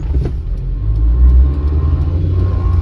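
Car pulling away in first gear on a crowded road at night, a steady low engine rumble that swells slightly as it moves off, with no talk over it.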